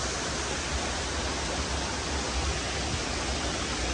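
Tham Soda waterfall in Nong Phok, Thailand: a constant broadband roar of falling water, dense and steady throughout with no voices or breaks.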